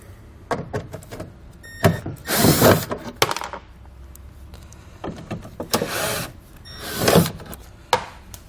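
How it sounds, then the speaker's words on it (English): A driver with a T20 Torx bit removes taillight screws on a 2016 Ford Transit, giving several bursts of whirring and grinding separated by quiet pauses, close and fairly loud. "We're going to take a T20 Torx bit now, and we're going to remove one screw here, one screw here, so we can pull the taillight assembly away from the vehicle."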